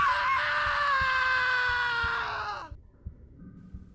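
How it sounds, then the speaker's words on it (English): A man's drawn-out scream used as a sound effect in a narrated horror story, loud and sustained for over two seconds before cutting off abruptly, followed by faint low thumps. "After 9 days, the first of them started screaming."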